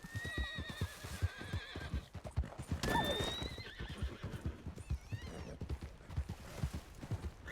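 Rhythmic hoofbeats of a horse clip-clopping at a steady pace in a video game, with several loud whinnies and neighs rising over the hooves.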